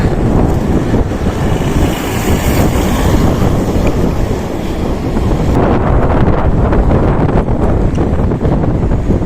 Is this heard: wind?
yes